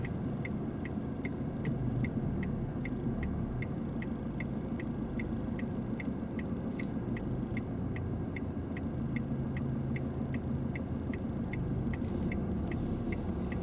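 A car creeps along slowly under clutch control during a driving lesson, giving a steady low engine rumble and hum, with a regular ticking like an indicator running throughout.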